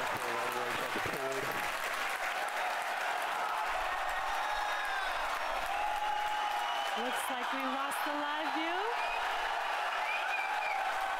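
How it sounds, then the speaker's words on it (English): A large crowd applauds and cheers continuously and loudly for the Falcon Heavy center core landing on the drone ship in 2019, with a voice speaking briefly at the start and another midway through the din. "People are cheering."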